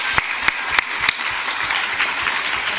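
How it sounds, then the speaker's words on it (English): Audience applause after a question goes unanswered, opening with a few sharp individual claps before settling into a moderate, even patter of many hands that continues to the end. "I love how I got a round of applause for not knowing something."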